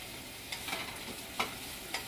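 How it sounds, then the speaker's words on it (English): Dried shrimp sizzle in a hot pan, a soft continuous frying hiss punctuated by a few scraping stirs, close and fairly quiet with no one speaking. "and they're sizzling"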